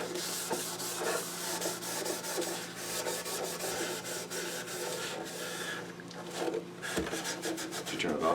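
A Scotch-Brite pad scrubs fast along the wooden neck of a 335-style guitar kit, making a rapid, rhythmic rasping that is close and continuous, with brief voices in the background.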